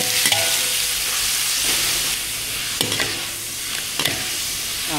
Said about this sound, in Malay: Goreng itik je dia masuk dulu.